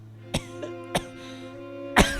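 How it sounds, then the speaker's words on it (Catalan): Coughs from an audience member at a concert: several short, sharp bursts spread across a couple of seconds, the last one loudest, over a steady low hum and no talk. "¿Puede dejar de hacer tos en voz baixa?"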